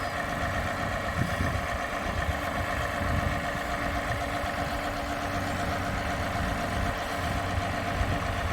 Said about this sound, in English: we're gonna make it easier on ourselves and move it with the tractor